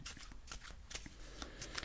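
A deck of playing cards is shuffled by hand for a solitaire layout, quick crisp riffling bursts repeating close up in a quiet room.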